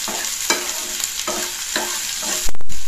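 Rava idli mixture, lightly salted, is stirred and roasted in a pan over a low flame. A spoon scrapes loudly in repeated strokes, about two per second, over a soft sizzle, ending with a louder clatter.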